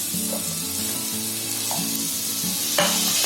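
Coconut, ginger, onion and garlic frying in a pan give a steady, close sizzle, with a louder burst of crackle near the end over a faint tonal hum; no one speaks.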